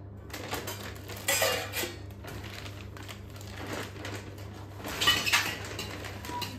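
Steel plates are handled and set against each other, giving a few close metallic clinks and clatters, the loudest near the middle and the end, over a low steady hum.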